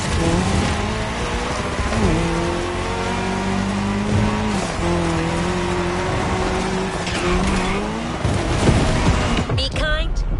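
Race cars in The Crew Motorfest driving on tarmac during a cross-terrain race, engines droning loud and steady with rising and falling pitch as they shift and rev, plus brief tire noise near the end.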